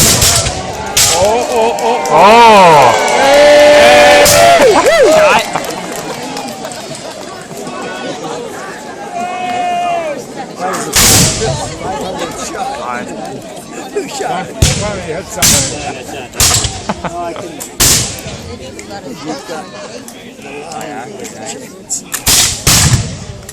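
Sharp musket shots and heavy artillery booms crack out irregularly amid shouting voices and crowd commotion at a War of 1812 battle re-enactment in Grimsby, some blasts close and loud, others scattered.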